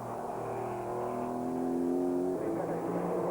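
A racing car at a 1997 British motorsport event, its engine note droning steadily and rising slightly in pitch as it passes at moderate distance, with no talk over it.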